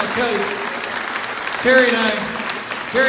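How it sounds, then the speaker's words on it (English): Applause from a political rally crowd in Dubuque, Iowa, for Governor Terry Branstad, a steady wash of many hands clapping with cheers and raised voices swelling through it, loudest near the end. "Would you just give him a round of applause?"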